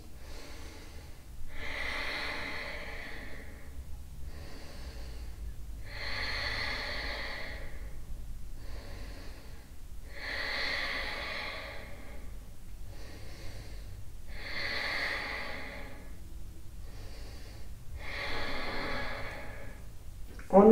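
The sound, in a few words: heavy breathing during yoga pose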